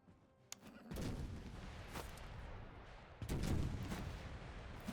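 Cannon fire from the Master of Command strategy game, with several booming shots: a sharp crack near the start, a heavy blast around one second, another at two, and a louder volley past three seconds over rumbling battle noise.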